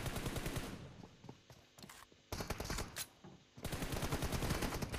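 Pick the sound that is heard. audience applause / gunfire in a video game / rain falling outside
gunfire in a video game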